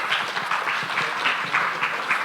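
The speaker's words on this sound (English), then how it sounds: "Please, a big round of applause for her." An audience at a business expo gives sustained applause, a dense, even wash of many hands clapping in a large room.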